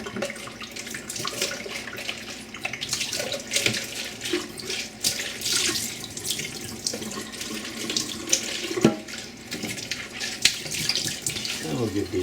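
Tap water splashes steadily into a jar of sprouts, rinsing them in a continuous running, gurgling stream with small clinks and shifts throughout.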